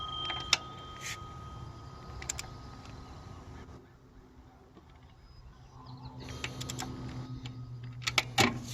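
A torque wrench clicking on tensioner bolts of an Acura TSX set at 16 pounds, a few sharp close clicks in small clusters, over faint low background hum.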